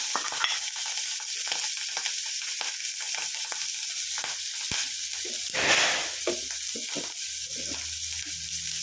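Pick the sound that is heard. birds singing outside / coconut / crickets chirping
coconut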